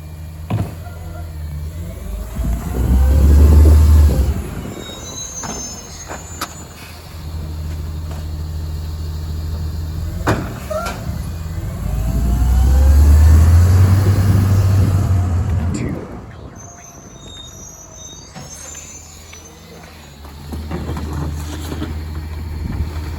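Miller Waste CNG Freightliner M2 garbage truck with a Leach 2R-III rear loader on a residential compost and trash route; a deep engine rumble surges loudly twice, easing between, with wind buffeting the microphone.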